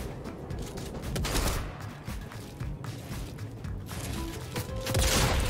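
Gunfire in a game, likely Fortnite, rattles as dense volleys of rapid shots with scattered cracks and impacts, loud and continuous across the clip.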